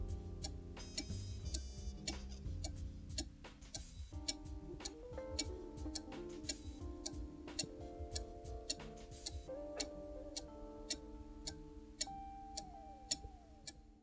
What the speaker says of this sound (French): ajustez l'horloge au mieux jusqu'à obtenir un tic-tac régulier